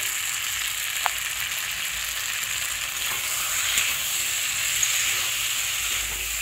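Kashmiri red chilli powder and turmeric sizzle steadily in hot oil in a pan, a continuous close frying hiss with a few faint scrapes, no voices.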